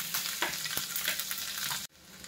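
Chopped garlic dropped into hot rice bran oil in a pan, a loud close sizzle with crackling bursts that cuts off abruptly near the end, leaving a quieter hiss.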